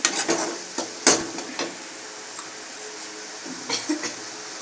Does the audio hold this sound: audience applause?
no